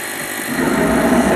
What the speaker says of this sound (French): Et nous allons faire un essai de démarrage tout de suite. C'est parti. Alors, j'enclenche l'allumage.